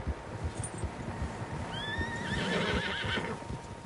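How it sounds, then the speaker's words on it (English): Horses in Red Dead Redemption 2, with a clear high whinny rising and wavering partway through over a steady background of hooves clopping, moderately near and without talk. "Horses, quite a few of them."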